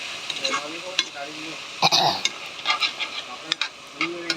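Black lentils and meat sizzle and fry together in a pan with scraping stirs and occasional clanks, while a voice talks softly over the cooking.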